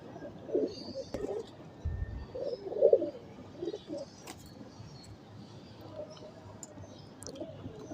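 Teddy pigeons cooing in a loft, soft low repeated coos in short bursts with a faint bird chirp, fairly quiet amid light background noise.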